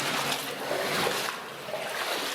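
Water trickling and sloshing in a dark, muddy old mine tunnel, a steady close wash of running water with no talk.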